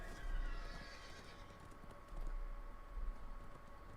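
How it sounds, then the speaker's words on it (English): A horse gallops in a video game, a soft rhythmic clip-clop of hooves in bursts against a faint background hum, with occasional keyboard clicks. "Get on your horse and run away."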